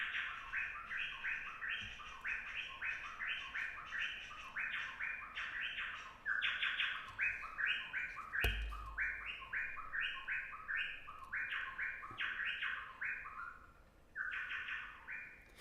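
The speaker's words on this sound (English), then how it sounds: "a little brown bird that lives on the forest floor" A small brown forest-floor bird in the Daintree rainforest sings a long, looping series of bright, rapid chirping phrases, repeated steadily and fairly close. One sharp knock breaks in partway through.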